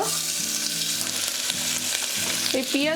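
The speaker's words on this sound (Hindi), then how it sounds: "एबे आमे पकेबा एथेरे सरसो तेल पकेला परे पके देबा आमे तेजपत्र और पियाज" Bay leaves and chopped onion sizzle steadily in hot mustard oil for Odisha-style ghuguni, a loud, continuous crackling fry close by, with the scrape of stirring and a faint low tonal hum underneath.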